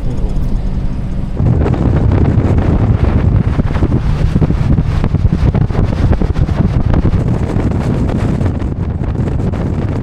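Strong wind buffets the microphone in a loud, continuous low rumble that runs throughout, with no voices, on a jungle safari in the Dooars, West Bengal.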